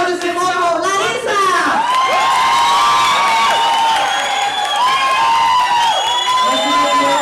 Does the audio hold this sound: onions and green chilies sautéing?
no